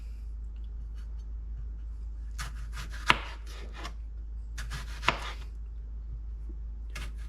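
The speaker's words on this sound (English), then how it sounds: "Okay, so we got 1 tomato sliced. We're going to do the next one." A firm green tomato is sliced with a knife on a board, giving quiet cutting and rubbing sounds and two distinct sharp knocks of the blade against the board, with no talking.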